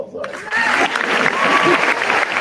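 A round of audience applause at a senior awards ceremony, dense steady clapping from a crowd that lasts throughout, with a voice speaking over it.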